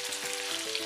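Chicken pieces for afritada fry and get turned in a pan, a dense crackling sizzle with small scraping stirs, close and continuous.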